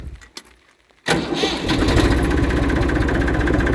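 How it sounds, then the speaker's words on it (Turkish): Massey Ferguson 240 tractor engine cranking and firing up after a brief quiet pause, then settling into a loud, steady diesel rumble with dense broadband clatter, close by in a hazelnut orchard spraying setup. "Traktörümüzü bir çalıştıralım."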